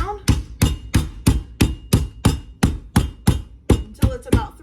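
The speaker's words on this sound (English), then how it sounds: "if you have a little meat hammer, you're just going to pound it down" A small meat hammer pounds pork tenderloin laid between sheets of wax or parchment paper, fourteen heavy thuds in a steady, close rhythm, each a dull slap with a short ring.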